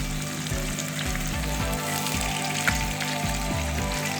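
Fish pakora frying in a pan over medium to low flame, a steady close sizzle and bubbling crackle throughout, with low rhythmic thumps underneath and no voices.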